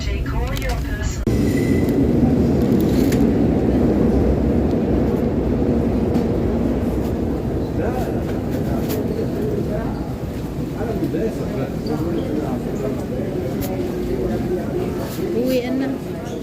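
A Milan M1 red line metro train arrives at the Sesto-area terminus, with a steady loud rumble and rolling clatter lasting throughout and a voice talking over it.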